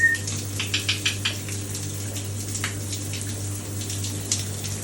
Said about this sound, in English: we have ourselves a double shower